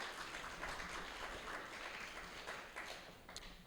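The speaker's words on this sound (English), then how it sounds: "please give yourselves a round of applause for being here in the middle of the week talking about AI" An audience claps together at a live evening discussion event in a gallery space, a steady patter of many hands filling the room and thinning slightly toward the end, with no talking over it.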